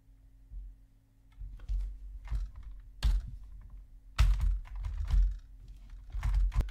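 Keys clack on a computer keyboard in irregular bursts of taps and sharper shortcut presses, close and fairly quiet, with short pauses between the clusters and no one talking.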